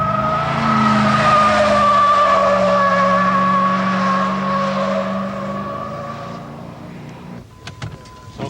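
A 1983 Corvette C4 drives off with a loud, sustained engine whine and tire noise that holds for several seconds before fading into quieter background sounds and a few brief knocks.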